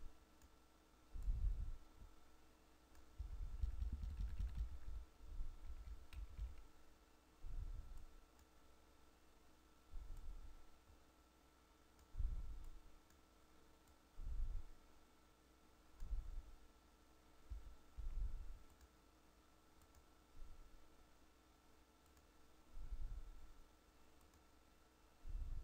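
Arrow keys on a computer keyboard pressed while editing, giving soft, faint clicks that come singly and in short clusters with pauses between, against a quiet room hum.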